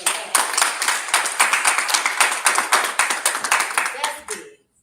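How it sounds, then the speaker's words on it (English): An audience claps, a brisk run of individual hand claps with a loose, irregular rhythm that ends abruptly after about four seconds. "Let's clap it up for that."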